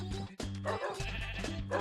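Sheep in the Minecraft video game on Wii U bleat loudly and close, two or three drawn-out wavering calls in quick succession, with no talk.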